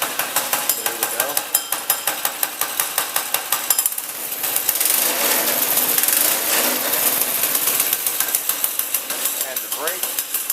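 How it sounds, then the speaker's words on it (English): A cheap Craigslist go-kart engine idles close by with the clutch disengaged, a loud, steady, rapid putter of regular firing pulses that roughens and thickens briefly midway. "I already set the idle to where it would run without engaging the clutch"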